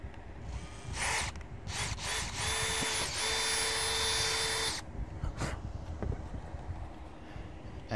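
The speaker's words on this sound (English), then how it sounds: "So next, drill my hole" A power drill bores a hole in deck boards with a few short whirring bursts, then one sustained high whine, close up, followed by outdoor background noise.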